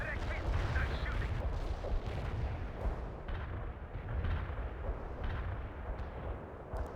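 An artillery barrage strikes in the video game World in Conflict, a dense rolling series of booming impacts and crackling blasts that continues without pause, with voices talking over parts of it.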